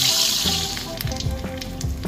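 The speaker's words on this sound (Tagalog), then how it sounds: "Mainit na yung ating mantika. Prito lang natin yan." Fish fries in hot cooking oil, giving a steady loud sizzle that fades slightly, with soft pops and bubbling underneath, heard close up.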